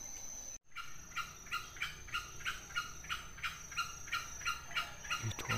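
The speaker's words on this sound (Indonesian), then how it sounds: "Itu ada suaranya lagi kawan. Suara ayam hutan. Jantan itu kayaknya." A distant green junglefowl rooster gives a rapid series of short, evenly spaced crowing calls, repeated steadily over quiet forest background.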